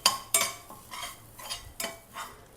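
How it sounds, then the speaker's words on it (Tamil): Half a cup of grated coconut roasting in ghee in a pan for a sweet, heard as a handful of distinct utensil scrapes and clinks against the metal, a few seconds apart, with only faint frying beneath and no voices. "ஒரு அரை கப் தேங்காய் எடுத்துருக்கோம் அது வறுத்துடலாம் லேசாக செவக்க வர்ற மாதிரி வறுத்துக்கலாம்"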